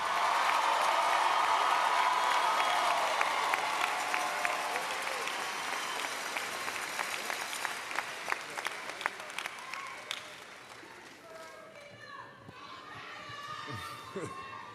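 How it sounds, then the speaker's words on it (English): Applause and cheering from a crowd for the 2024 graduating class at West Orange High School's graduation, loud and dense at first, then thinning after a few seconds into scattered claps and distant shouts. "please give a round of applause to the graduating class of"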